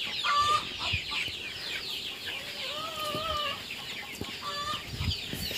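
Young ducklings call with high, thin repeated peeps, some rising and falling, over a busy farmyard background with scattered clucking-like sounds and knocks, fairly quiet and distant.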